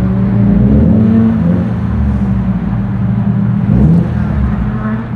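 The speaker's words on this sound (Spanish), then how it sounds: "no sé si lograrán escuchar el motor" Steady engine rumble of a Mitsubishi Lancer GLX heard from inside while driving, a constant low drone with a slight rise in revs partway through, continuous and fairly loud.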